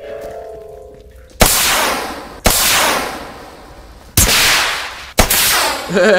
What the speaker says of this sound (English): I see I have the axe gun. Holding axe, shoots bullets.